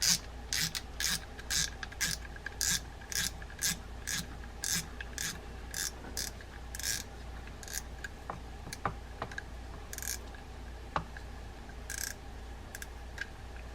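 Clicking from the drag adjuster knob of a Penn Battle II 4000 spinning reel being tightened, a close series of crisp ratcheting clicks in irregular bursts, followed by quieter scattered mechanical ticks and handling noise.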